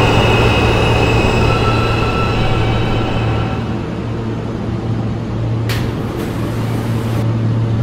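An R160 New York subway shuttle train bound for Rockaway Park–Beach 116th Street runs with a steady loud rumble and constant low motor hum, heard from inside the car, without talk.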